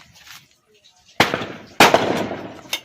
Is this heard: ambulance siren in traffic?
no